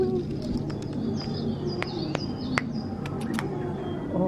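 Small owl at an owl cafe in Harajuku, Tokyo, giving soft repeated cooing calls and brief chirps over a steady indoor murmur, with occasional sharp clicks nearby.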